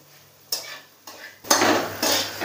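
Vegetables for bread cutlets being stirred and sautéed with a little salt in a pan, the spoon scraping the metal in four distinct bursts over a soft background, getting louder toward the end.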